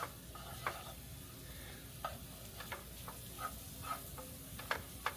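Mushroom stems cook in butter in a pan, giving a faint, steady low sizzle dotted with scattered soft ticks and light scrapes from stirring, with no voices.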